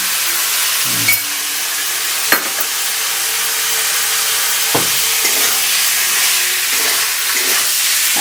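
Pork with ground spice paste frying in a pan, a steady loud sizzle and hiss broken by a few scraping stirs.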